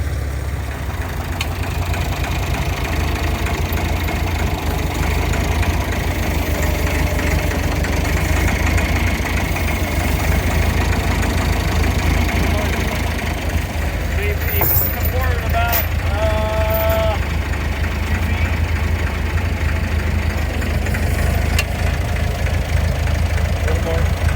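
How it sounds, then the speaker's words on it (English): WWII M5A1 Stuart tank with twin Cadillac V8 engines and automatic transmission idling, a steady, loud low rumble with a faint knocking texture, and brief mechanical squeaks partway through alongside muffled voices. "this one used 2 Cadillac V8s with a automatic transmission"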